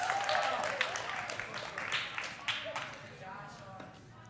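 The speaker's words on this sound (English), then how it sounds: "Give yourselves a round of applause." A youth group gives itself a quick round of applause, scattered claps and shuffling that fade over a few seconds, fairly quiet, with a voice talking over the noise.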